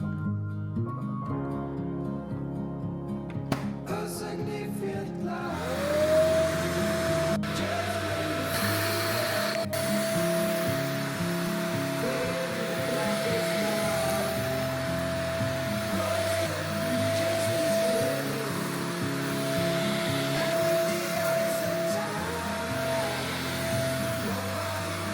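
A vacuum cleaner runs steadily on carpet indoors, a loud continuous motor drone with a sustained whine, close and unbroken for the whole stretch with no talking.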